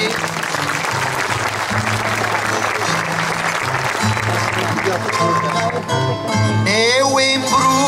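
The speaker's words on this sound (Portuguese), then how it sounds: "vêm para o José Eliseu, para ele as palmas" Audience applause at a Sanjoaninas folk singing night, a dense, sustained clapping that runs throughout with rhythmic low accompaniment underneath and tonal voices or instruments rising toward the end.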